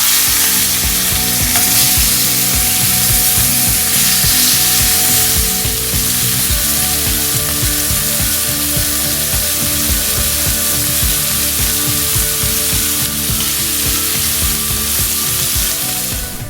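Bone-in beef short ribs and a chuck roast searing in a pan on the stove, a loud, steady, crackling sizzle that runs close and unbroken throughout.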